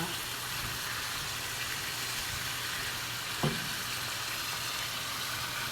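Chicken sautéing in a pan as the first step of a sinigang, a steady, soft sizzle and fry running through the whole stretch, with one brief clink of a utensil partway through.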